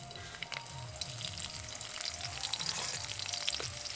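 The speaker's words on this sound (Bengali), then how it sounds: "এবার পেঁয়াজটাকে হালকা বাদামি রং ধরা পর্যন্ত ভেজে নেব" Chopped onion sizzles steadily in hot oil with bay leaf and panch phoron for a Bengali dish, a soft, even crackle with occasional stirring scrapes and no talking.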